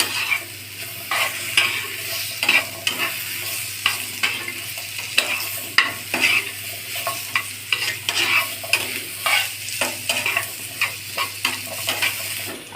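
Cut potatoes with turmeric and a pinch of salt fry in a hot pan, giving a constant sizzle broken by regular scraping stirs every second or so, close up and without any talk.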